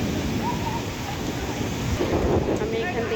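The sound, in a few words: thunderstorm with heavy rain at night in Dhaka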